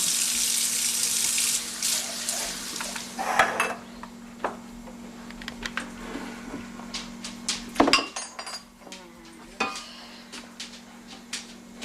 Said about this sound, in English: we're going to rinse ours off just a little bit